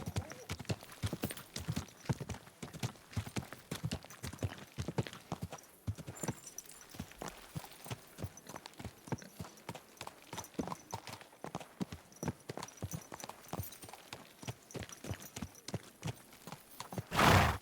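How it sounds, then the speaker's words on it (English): Horse hooves clip-clop steadily in the video game Kingdom Come II, a close, even walking rhythm of sharp knocks that runs throughout, with a brief louder burst at the very end. "my, what a beautiful horse."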